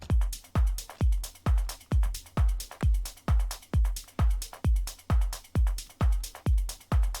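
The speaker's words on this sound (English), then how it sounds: "we notice there's a kick drum playing together with some loops" A soloed drum part from a deep trance chill house track plays on its own: a steady four-on-the-floor kick drum with looped percussion, hi-hats and claps, repeating evenly and cleanly with no voices.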